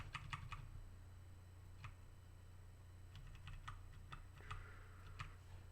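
Soft, quiet tapping on a computer keyboard comes in short irregular bursts of keystrokes, with pauses between them, over a low background hum.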